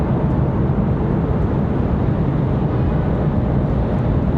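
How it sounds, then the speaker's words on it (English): Continuous low roar of a Boeing 737 engine at full run-up on an airport apron, a steady, heavy rumble heard from a distance with no change in level and no voices. "There's a 737 sitting over there. Sounds like they might be doing a full engine run-up on."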